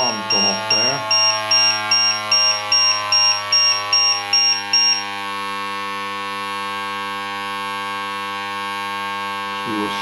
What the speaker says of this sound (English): LiPo alarm gone off there.